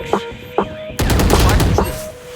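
Gunfire in the Valorant video game: two separate single shots come first, then a loud, fast burst of automatic fire with several sharp cracks. The shooting is close and dominates the clip.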